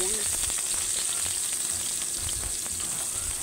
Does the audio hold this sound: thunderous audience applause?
no